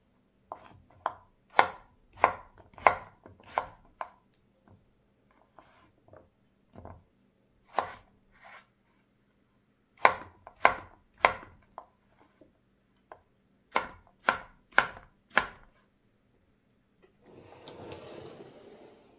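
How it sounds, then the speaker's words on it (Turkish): Potatoes, onions and peppers being chopped into cubes on a cutting board: crisp, close knife strikes come in quick bursts of several cuts with short pauses between, ending with a brief scraping rustle, no talk. "Bu sebzeleri de tıpkı tavuk büyüklüğünde küp küp de doğruyoruz."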